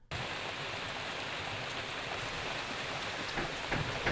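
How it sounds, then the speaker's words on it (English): Heavy rain pours down outdoors as a dense, steady hiss that starts abruptly and holds at constant strength, with a few louder spatters near the end and no voices. "I'm soaking wet, it's peeing down with rain"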